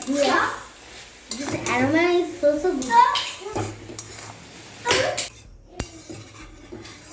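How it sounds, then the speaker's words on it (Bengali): Tomato, ginger, green chili and cumin powder being sautéed in a pan, with a spatula scraping and clinking against the metal in short bursts while people talk over it. "টমেটো আদা কাঁচা লঙ্কা আর একটু জিরে মানে জিরের গুঁড়ো আর কি দিয়ে কষাচ্ছি"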